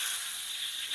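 Garlic sautéing in a wok, a steady close hiss of sizzling oil with no voices, brief and even throughout.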